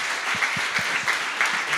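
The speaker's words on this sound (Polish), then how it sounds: "My w ogóle brawa dla Mateusza" Brief applause from an audience at a talk, a short patter of claps with a few distinct nearby hand claps, moderately quiet.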